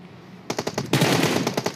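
Rapid bursts of machine gun fire in PUBG Mobile, sharp repeated shots in quick succession starting after a brief quiet moment, loud and close.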